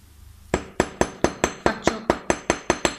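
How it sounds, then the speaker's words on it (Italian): A flat-faced hammer strikes an aluminium wire spiral in a steady run of about eleven sharp, ringing metallic taps, close and loud, evenly spaced at roughly four per second. "prendo il martello dall'estremità punta piatta e inizio a martellare così"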